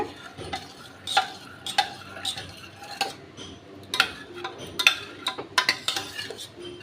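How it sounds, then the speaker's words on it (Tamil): A spoon mashes cooked moong dal (split yellow lentils) in a pot, giving irregular close scrapes and sharp metal clinks in short bursts, with quiet pauses between strokes. "இதே மாதிரி நல்லா குழச்சி வேக வச்சு எடுத்துக்கோங்க நல்லா மசிச்சு விட்டுக்கோங்க"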